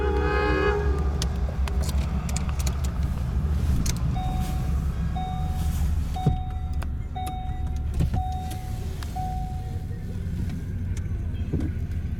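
A steady low rumble of a passing train, with a repeated horn-like tone sounding several times in the middle.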